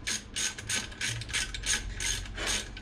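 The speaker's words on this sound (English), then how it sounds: "I'll be using the ratchet to start them off with my hand" Hand ratchet clicking steadily while winding nuts on a Classic Mini during clutch replacement work, a close, rhythmic train of short metallic pawl ticks with no talking.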